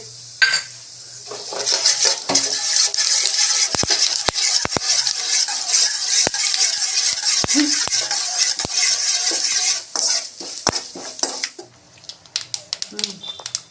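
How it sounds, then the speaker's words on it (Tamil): Mustard seeds splutter in hot oil with urad dal for a turkey berry (sundakai) chutney. Sharp, scattered pops and crackles burst irregularly over a steady bright hiss, close and fairly loud for most of the stretch. "கடுகு எடுத்துருச்சு"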